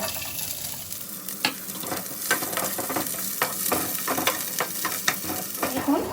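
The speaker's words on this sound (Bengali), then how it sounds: "এই কাজু কিশমিশগুলো আমি একটু এর মধ্যে ভেজে নেব" Cashews and raisins fry in ghee, giving a soft continuous sizzle under regular stirring scrapes and light spoon taps against the pan, close and moderately loud. No one talks.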